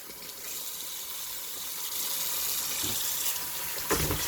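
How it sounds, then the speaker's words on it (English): Running tap water splashes over a pumpkin being washed in a sink, a soft continuous stream with faint handling bumps near the end, no speech. "Wash the pumpkin properly."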